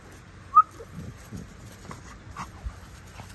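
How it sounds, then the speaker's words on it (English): Three-month-old puppies pant and make small whimpering sounds close by, with scattered short breaths and one sharp high squeak. "These dogs are only 3 months"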